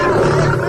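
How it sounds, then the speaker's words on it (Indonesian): Tiger roar heard from a distance over a village, a loud sustained growling roar under dramatized crowd noise and voice, filling the brief moment. "Dari kejauhan, di tengah-tengah desanya terdengar aum harimau yang kemudian disusul dengan teriakan-teriakan ketakutan penduduk desa Kayan."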